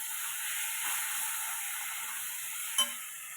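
Mashed roasted eggplant being mixed for bharit makes a soft, continuous hiss with faint stirring scrapes, and a single brief clink comes near the end; no one speaks.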